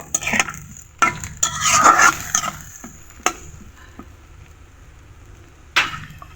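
Hog plum is stirred in a pan with a little water over low heat, giving scattered sharp knocks of the utensil against the pan between quieter stretches of scraping and faint sizzle.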